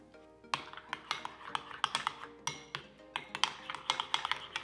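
A horseradish sauce with garlic powder, pepper and salt being mixed in a bowl, quick repeated clinks and taps of a utensil against the bowl in an uneven rhythm, close and fairly loud.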